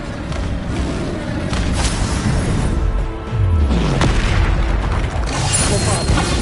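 Repeated Bombarda spell explosions in Hogwarts Legacy on PS5, loud booming blasts with crashing impacts that come one after another, a deep rumbling hit landing near the middle.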